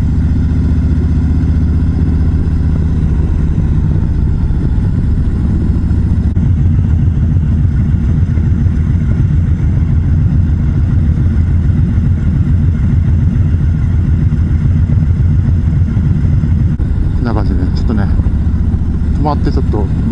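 A motorcycle fitted with a Rinehart slip-on muffler idles with a steady, deep burbling rumble, close and continuous, with a brief blip of revs near the end.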